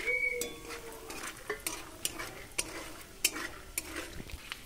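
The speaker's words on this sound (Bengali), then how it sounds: "বাদাম ভেজে তুলে নিচ্ছি।" Peanuts fry in a pan with a quiet sizzle as a spoon stirs and scrapes them, sending out a series of sharp metallic clicks and taps, with nobody speaking.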